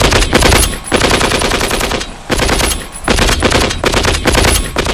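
A tank fires its machine gun in Vietnam in loud, rapid bursts, with a few brief gaps between the long strings of shots.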